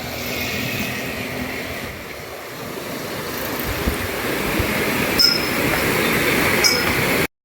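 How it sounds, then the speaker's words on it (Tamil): Constant broad rushing of water flowing from an opened dam fills the scene, with a few faint high squeaks near the end and no talking. "திறந்து விட்டுருக்கிறேன் தண்ணி வந்து இப்படி ஓடுதுன்னு பாருங்க"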